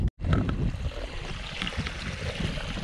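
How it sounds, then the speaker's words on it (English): Old water draining out of a sheep trough on an Australian paddock, a continuous gushing, trickling flow close by that starts abruptly after a brief silence and runs on steadily without talk. "All this old water's coming out so that we can move it and then put some fresh water in."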